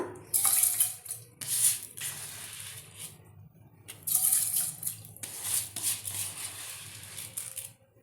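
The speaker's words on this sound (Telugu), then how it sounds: "ఒక గ్లాసు వాటర్ పోస్తున్నాను" A glass of water is poured into a cooking pot for chakra pongali rice, giving close splashing bursts in several pours with short pauses between them, with no talk.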